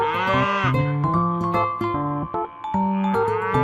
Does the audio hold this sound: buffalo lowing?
yes